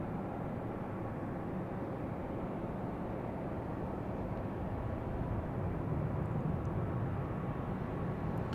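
A steady, broad engine rumble from an airplane at Logan airport at dusk, continuous and even throughout, heard from a distance with no voices.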